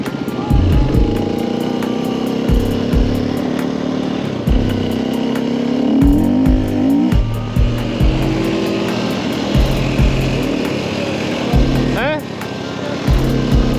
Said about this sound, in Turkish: Şimdi de biraz dört zamanlı sürüyorum.